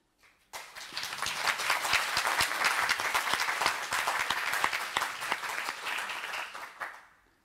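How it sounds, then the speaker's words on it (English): Sustained audience applause at a conference plenary session on creativity and secularism, a dense wash of many hands clapping steadily for about seven seconds before stopping abruptly. "I think that was an applause for you helping to support also"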